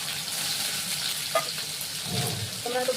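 Prawns are dropped into greens frying with garlic, giving a close, steady sizzle with stirring clatter and a brief louder burst of frying near the end.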